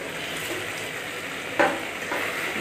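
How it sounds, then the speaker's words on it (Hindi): Masala for a rohu fish curry sizzles steadily in hot oil, a constant frying hiss with one sharper spatter of stirring midway and a brief scrape near the end. "मसाले को भूनना है अच्छी तरह से"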